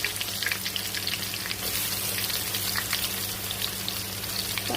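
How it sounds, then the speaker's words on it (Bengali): Onions sizzle and fry steadily in hot oil at the start of a Bangladeshi mezban-style beef curry, a dense, close crackle with sharp spits and pops and no voices. "আমি প্রথমে দিয়ে দিলাম পেঁয়াজ গরম তেলের মধ্যে"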